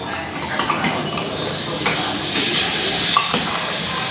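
A pot of meat set onto a stove, with metal pots and lids clinking and clattering close by over a steady background hiss of cooking.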